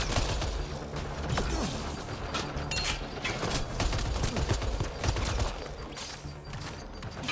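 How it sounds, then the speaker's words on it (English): Burst-fire rifle shooting in Mass Effect Andromeda, a dense run of rapid shots and mechanical clatter filling the whole stretch at steady loudness, with no talk. "I hate these 3 burst guns."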